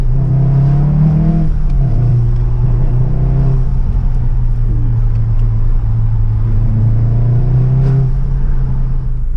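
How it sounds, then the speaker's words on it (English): A Volkswagen Golf R fitted with a Milltek exhaust drives off, its engine note droning loud and close before easing and swelling again with gear changes, with a steady rumble throughout and no talk. "Just like that, we put the exhaust on, we're leaving."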